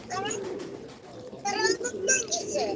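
Pigeons cooing close by while they are fed grain, soft repeated coos in short bursts, mixed with a voice talking over them.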